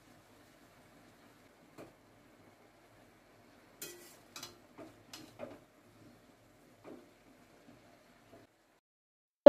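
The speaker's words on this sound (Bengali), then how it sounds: "এবার সবটা একসাথে মিশিয়ে নেওয়া হবে।" A spatula stirs fried cabbage, potato, onion and dried shrimp together in a pan, giving a handful of quiet, scattered scrapes and clinks over near silence, with no talking.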